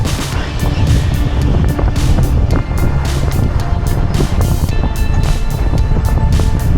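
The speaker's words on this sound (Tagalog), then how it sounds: "Malakas ang hangin." Strong wind roars and buffets the microphone nonstop during a bicycle descent of Canyon Woods near Tagaytay, a loud low rumble filling the whole stretch.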